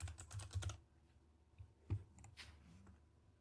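Computer keyboard typing a title in a classroom setting, a quick burst of soft close key clicks at the start, then a few scattered taps and a louder single press, fairly quiet.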